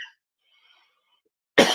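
A single loud, close cough breaks out abruptly after more than a second and a half of near silence on a live radio-style talk show.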